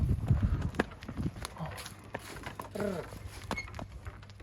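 Hooves of a pregnant isabelline (cream-coloured) mare walking outdoors at a horse sale, a few irregular clip-clop steps under nearby talk and background noise.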